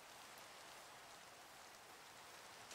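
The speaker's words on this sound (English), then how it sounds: "Got some rain going on." Steady rain falling in Minecraft, a continuous soft hiss of dense rainfall without gaps, faint and even throughout, with no talk over it.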